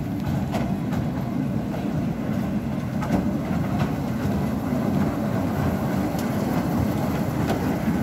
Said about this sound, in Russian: Цирковой поезд поехал.